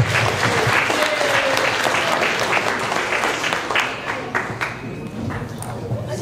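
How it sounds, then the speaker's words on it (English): Sustained audience applause at a spring-semester campus talent show, dense clapping held steady for about six seconds, loud and close, fading slightly toward the end. "give it a round of applause for our judges"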